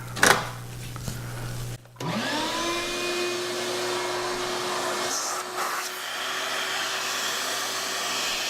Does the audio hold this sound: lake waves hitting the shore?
no